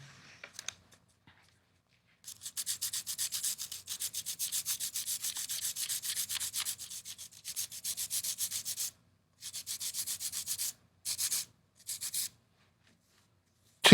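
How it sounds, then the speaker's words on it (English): Pencil graphite rubbed against a sanding block in quick, scratchy back-and-forth strokes, close and crisp, coming in steady bursts broken by short pauses. "And I can combine that with using my sanding block"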